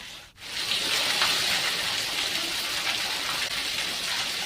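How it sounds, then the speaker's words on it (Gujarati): Heavy monsoon rain pours down steadily in Gujarat in a dense, continuous hiss, loud and close, with no voices. "વહેલી સવારથી સમગ્ર જિલ્લામાં વરસાદ શરૂ થઈ ગયો છે"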